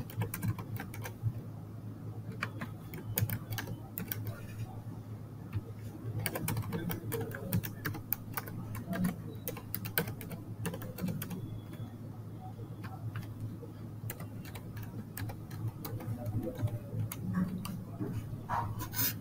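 Steady, close computer-keyboard typing as customer details are entered into a contact form, with rapid clicking keystrokes running throughout and only brief pauses.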